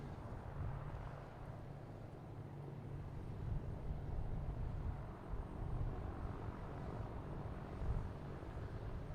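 A Delta Airbus A330 airliner on final approach into Boston Logan, a low, steady engine rumble and roar holding constant at moderate distance, with no talk over it.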